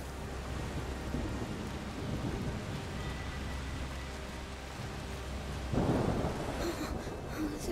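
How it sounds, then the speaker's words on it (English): Steady rain and rumbling thunder from a storm in the video game A Plague Tale: Requiem, a dense continuous downpour with a louder thunder swell late on, no talking over it. "The rain is getting worse."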